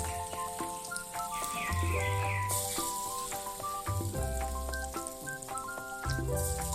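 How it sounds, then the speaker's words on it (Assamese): Small chickpea lentil fritters fry in hot oil with a steady, close crackling sizzle, rising and falling slightly throughout, with no voices. "এটা এটা কৰি তেলত ভাজি ল'ব।"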